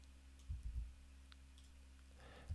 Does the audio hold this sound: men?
no